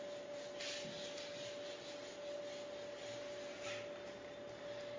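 Writing is rubbed off a classroom board with soft, repeated scrubbing strokes, faint and close, over a constant electrical hum with no speech.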